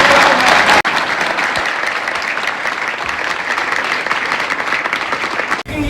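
An audience at a Jain sermon breaks into loud, sustained applause, a dense steady clapping that fills the whole stretch with only brief dips.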